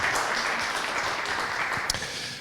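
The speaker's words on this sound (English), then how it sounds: "So a round of applause for our three event sponsors today." An audience applauds event sponsors at a trades gathering, a steady wash of many hands clapping throughout, moderately loud, with one sharper clap standing out near the end and no speech over it.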